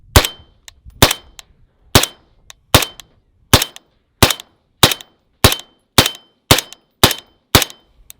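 A semi-auto 416 rifle with a 10.4-inch barrel, vented gas block and Surefire RC3 suppressor fires 300 Blackout in eleven sharp, loud, close shots at a steady pace of under one per second, each with a short ringing tail.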